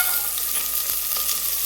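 Onion and tomato frying in hot oil in a pan for a crab sukka, a steady bright sizzle with occasional stirring scrapes, close and continuous, no voices.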